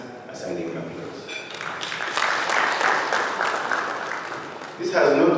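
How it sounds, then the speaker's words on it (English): Applause at a banks conference swells after a moment into sustained, moderately loud clapping from a crowd, continuing steadily for several seconds with a louder burst near the end. "I request that we give our partners a standing applause."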